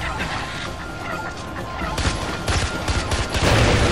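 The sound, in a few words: explosion in the video game Far Cry 4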